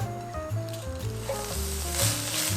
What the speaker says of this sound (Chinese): 先把我们的蔬菜炒香。